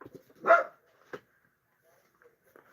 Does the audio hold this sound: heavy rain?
no